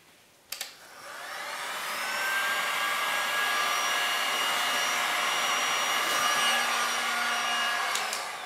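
A heat gun blows hot air over resin paint, a steady whooshing whine that starts with a click and builds to a constant loud hum with a faint high tone riding on it, with no talking.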